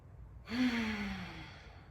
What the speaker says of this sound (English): I just like to take one big inhale